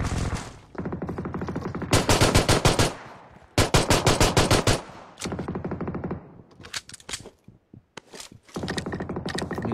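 Rapid automatic gunfire from the video game PUBG Mobile rattles out in long, loud bursts separated by brief gaps, with a few shorter volleys near the end and no speech over it.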